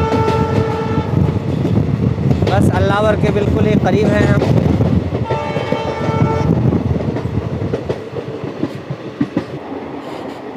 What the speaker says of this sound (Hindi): ये है नागरगली रेलवे स्टेशन